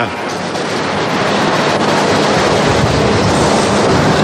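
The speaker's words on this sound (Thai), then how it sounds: "ลมมันขึ้นข้างบน" Strong wind buffets an outdoor microphone in a continuous loud, broadband roar, steady throughout with no clear speech on top.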